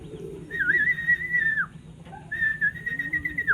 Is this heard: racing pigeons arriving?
yes